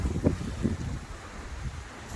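Wind blowing by a cold pond, a few soft low gusts buffeting the microphone and then a steady faint outdoor rush with no one speaking.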